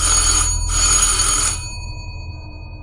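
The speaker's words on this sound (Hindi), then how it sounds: "एक रात नवीन का फोन आया।" A telephone bell rings loudly in two bursts, a short ring and then a longer one, before cutting off and leaving a low background hum.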